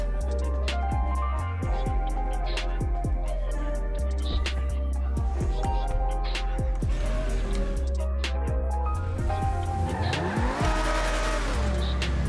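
A car in GTA V Online revs and drives hard, engine pitch rising and dropping through gear changes, with tire squeals and skids, loud and close throughout.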